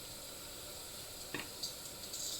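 Onions sautéing in a pan give a faint, steady sizzle, with a couple of small clicks or stirring taps breaking in near the middle and end; no talking.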